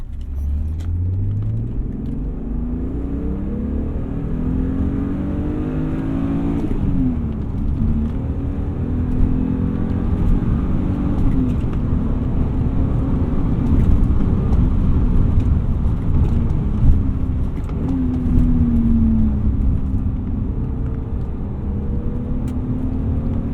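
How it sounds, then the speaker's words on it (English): BMW E36 with a UUC lightweight flywheel and E34 M5 clutch kit on a test drive, a continuous engine drone rising and falling through gear changes under steady road rumble heard from inside the cabin. "So we've now finished our test drive of the UUC"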